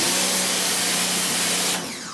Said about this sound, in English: I like to get nice and back on the pressure washer and give it a nice,